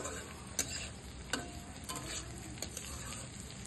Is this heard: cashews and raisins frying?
yes